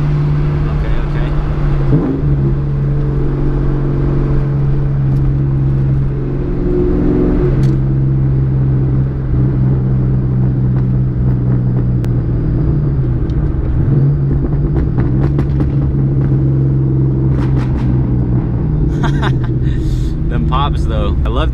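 A Shelby Mustang with a non-dyno tune holds a loud, close, steady deep rumble throughout, with a few sharp exhaust pops crackling near the end.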